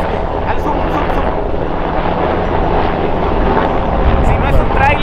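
A helicopter flies over a Mexican street, its broad loud rotor and engine roar steady and overhead for several seconds, dominating everything else.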